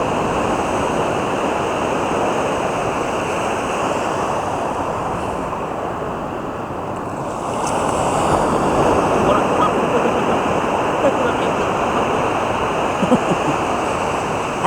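Ocean waves breaking at a surf beach: a steady, loud wash of surf with wind noise on the microphone, swelling slightly partway through, continuous without distinct individual breakers.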